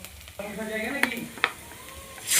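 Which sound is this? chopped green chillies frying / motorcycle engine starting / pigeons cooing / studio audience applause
chopped green chillies frying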